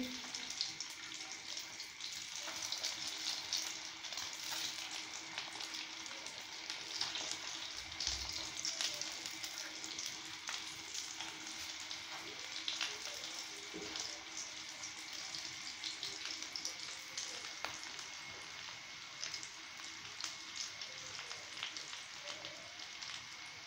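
Chinese chicken kebab cutlets fry in a pan with a soft, steady sizzle and faint crackles, quiet and continuous, with an occasional light knock as pieces are handled.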